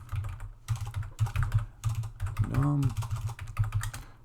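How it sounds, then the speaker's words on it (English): Computer keyboard typing during a programming lecture, a loud, close, rapid clatter of key bursts with short pauses, while a voice speaks briefly partway through. "let me type that again"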